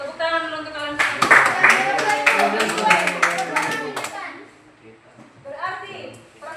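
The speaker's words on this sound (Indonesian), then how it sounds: "Tepuk tangan dulu untuk kalian semua." Children in a classroom break into a burst of clapping for their classmates, a ragged flurry of hand claps lasting a few seconds, with kids' voices chattering around and after it.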